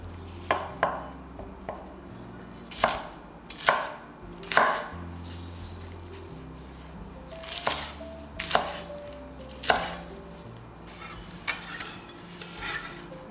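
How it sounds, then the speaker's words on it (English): Spring onions and Chinese celery being chopped on a cutting board, a series of sharp, close knife thuds in irregular bursts with quiet pauses between strokes. "Cut the spring onions and Chinese celery into about 1 to 2 inch pieces."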